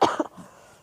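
A single short adult cough, close and sharp, with a quick second burst and a faint trailing breath afterward.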